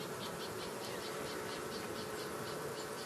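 Gentle honey bees hum around a newly set-up hive, a soft, steady, continuous buzz from many insects at low volume with no talking.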